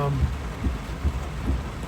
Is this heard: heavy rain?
yes